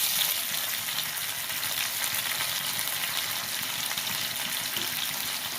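Chopped tomato and nigella seeds sizzling in hot oil in a pan, a steady loud hiss that holds evenly throughout with no talk.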